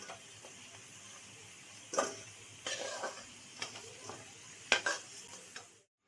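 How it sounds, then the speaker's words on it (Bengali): Potatoes fry in a pan while a spatula stirs them, giving a soft steady sizzle under several sharper scrapes and clinks against the pan. The sizzle fades out at the end. "এই লাল করে ভাজা হয়ে গেছে আলুগুলো"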